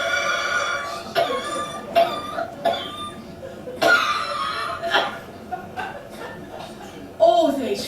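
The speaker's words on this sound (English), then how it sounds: "All these fags are giving me a horrible cough." A person coughs repeatedly in short, rough bursts, a smoker's cough from cigarettes, performed as part of a live annual stage show, with voiced, chuckle-like sounds between the coughs.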